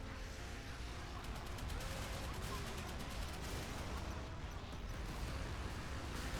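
Naval guns fire in the warship combat game Modern Warships, a dense, continuous barrage of booming shots and rapid bursts layered over rumbling explosions, loud and sustained throughout.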